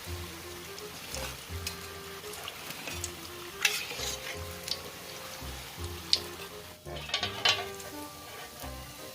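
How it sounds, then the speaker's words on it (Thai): Curry puffs (karipap) deep-frying in hot oil give a bubbling sizzle with light stirring clinks and scrapes, while background music plays throughout. "ดูนะครับทอดกะหรี่พับนะครับ"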